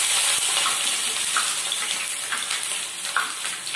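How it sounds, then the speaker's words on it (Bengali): Chopped onions frying in hot oil with cumin, cardamom, cinnamon and other whole spices, a loud, dense, steady sizzle heard close up with faint stirring and no talk. "এবার আমি এর মধ্যে পেঁয়াজ যে কুচিয়েছি এটা ঢেলে দেব"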